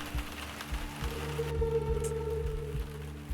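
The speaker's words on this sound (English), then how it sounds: "There's no longer like low pass rain." Unfiltered rain in a point-and-click game, a steady broadband hiss of falling drops that runs through the whole stretch over a low hum, with no muffling.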